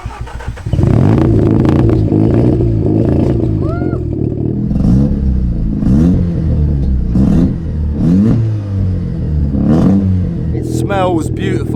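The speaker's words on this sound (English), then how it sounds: "we'll start it up so you guys can really hear that 13B goodness" A Mazda 13B rotary engine cranks, fires up and idles roughly, then revs repeatedly in rising and falling bursts, loud and close, with some voices underneath.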